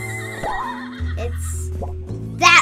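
Horse in Minecraft neighing: a loud, wavering whinny rises and falls, followed by snorts and a shorter high neigh at the end, close and clear over a low in-game background tone.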